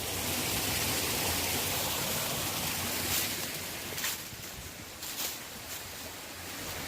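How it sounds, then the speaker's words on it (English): Small waterfalls at a creek crossing produce a steady, broad rushing of water that stays constant and close throughout, with a few faint knocks and brief shifts in the flow. "it does have some very cool little waterfalls, like that one there"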